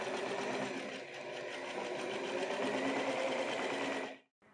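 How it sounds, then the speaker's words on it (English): A sewing machine stitches the inside leg seam of a pair of jeans, a steady close, loud mechanical whir that runs evenly for about four seconds and then stops abruptly. "While we're at it, sew the inside of the leg."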